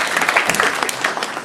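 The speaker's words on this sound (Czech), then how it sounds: "Potlesk číslo jedna." A live audience at a sports match gives a short round of applause, a dense wash of hand claps that carries on steadily at moderate volume with no voices over it.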